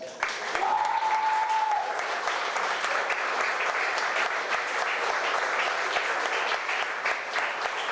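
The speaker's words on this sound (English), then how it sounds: "Can you please turn to your parents and give them a round of applause?" Dense, sustained applause from a large audience at a high school scholarship awards ceremony as students applaud their parents, a brief tone sounding near the start, then an even roar of clapping throughout.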